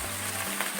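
Spring cabbage leaves oil-steaming in a pan over raised, near-high heat give off a soft, steady sizzle, brief and faint, with no voices.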